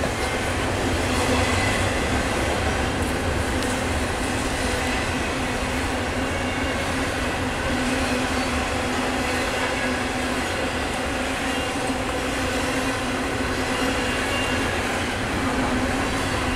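A train rumbles along continuously with a loud, steady roar and faint rhythmic clatter of wheels on track, without letup.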